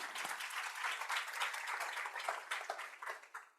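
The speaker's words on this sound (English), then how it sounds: "Let's give her a round of applause." A lecture audience at a business school applauds a guest speaker, a dense, steady wash of many hands clapping together that holds at an even level and then tapers off, with no voices heard over it.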